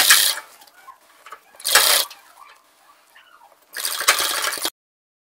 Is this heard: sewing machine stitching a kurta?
yes